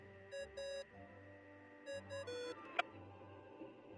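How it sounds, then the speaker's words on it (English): Ringing chimes in the video game Genshin Impact, two bursts of bright repeating electronic tones with a short sharp ping, steady and clear over a low game hum. "What's that ringing?"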